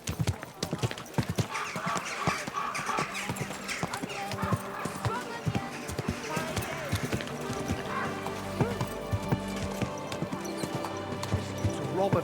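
Horse hooves clip-clop steadily over ground in the video game Kingdom Come: Deliverance 2, with occasional whinnies and voices talking over the rhythmic footfalls.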